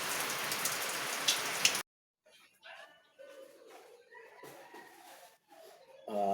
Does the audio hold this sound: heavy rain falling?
yes